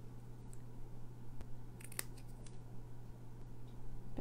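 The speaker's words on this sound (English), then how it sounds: "I'm gonna actually cut this a little bit narrower." Scissors snipping paper for a handmade Christmas gnome card, a few quiet, close cuts over a steady low hum, no talking.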